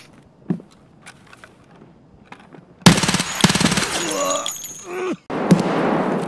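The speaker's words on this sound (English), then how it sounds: "I just want to shoot Slayer right now." Automatic gunfire in Escape from Tarkov bursts in loud and dense after a quiet stretch, rapid shots rattling for a few seconds, briefly cutting out, then resuming, with a player talking over it.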